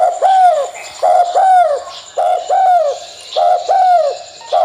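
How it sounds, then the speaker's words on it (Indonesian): A spotted dove perched atop a shrine coos in steady repeated phrases, each a rounded, falling call close and clear, with short pauses between groups and no other sounds around it. "kebetulan ada burung tekukur atau anduhur sedang bertengker di atas sanggar itu"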